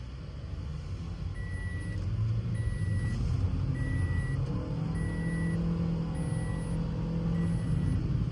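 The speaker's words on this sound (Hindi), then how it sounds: "स्पोर्ट्स मोड लग चुका है एंड गाड़ी को डालते हैं D में एंड लेट्स गो।" A Toyota Yaris 1.5 Ativ X in sports mode pulls away as a steady low engine and road rumble fills the cabin, while a repeating electronic chime beeps at regular intervals over it.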